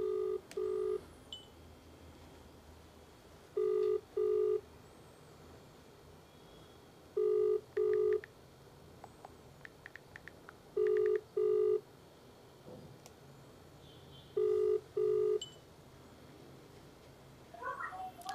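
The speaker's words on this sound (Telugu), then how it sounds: "ఫోన్ లిఫ్ట్ చేయట్లే బిజీ వస్తుంది" Unanswered outgoing phone call during a live news broadcast: paired ringback tones repeat at steady intervals of about three and a half seconds, clear and close over a faint hum, with no talking.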